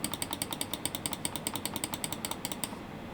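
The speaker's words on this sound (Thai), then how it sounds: "คลิกขวาครับ" Rapid, evenly spaced right-button clicks on an Xtrfy M8 wireless gaming mouse, crisp and close, repeating steadily for a few seconds before stopping.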